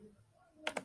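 Two sharp, close key clicks land at the very end, typed on a computer keyboard during a Roblox Flee the Facility game session, after a near-silent stretch.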